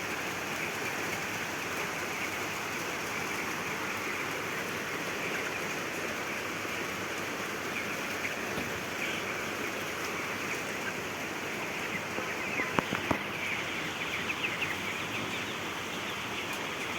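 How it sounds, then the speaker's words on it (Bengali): A light drizzle falls outside a broiler chicken farm, making a faint, even hiss that stays steady throughout, broken only by a few tiny ticks near the end. "ঝিরি ঝিরি বৃষ্টি।"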